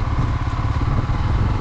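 Honda Twister 250 motorcycle ridden slowly on a dirt mountain trail, a loud, close, steady low engine chug with rough clattering texture and no talk.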